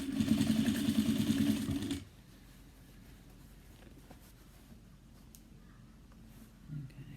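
Sewing machine top stitching a zipper gusset on a cross-body bag, a close steady buzzing run for about two seconds that stops abruptly, followed by faint handling noise.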